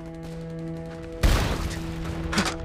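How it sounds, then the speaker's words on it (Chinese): A battle scene in a war drama set during the resistance against Japan has a sudden loud burst of gunfire partway through. It rises out of a low steady hum and is followed by a lighter, rattling tail and one more smaller impact. "我方遭到敌人炮火猛烈攻击"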